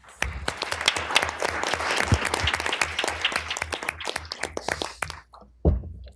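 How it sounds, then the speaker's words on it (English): A school board meeting audience applauds students, a burst of many hands clapping that holds strong, thins out toward the end and closes with a few scattered claps. "Can we please give them a round of applause?"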